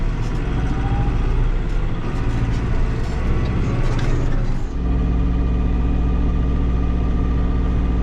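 A tractor hauling a heavy load of sand through a muddy field drones steadily and loudly close by, its engine note shifting partway through, then settling into an even, labouring hum.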